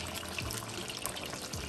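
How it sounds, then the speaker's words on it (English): Water pours steadily into a cooking pot of brown stew turkey necks, a soft continuous splashing and trickle at close range with no talking. "I'm gonna add a little more water to it."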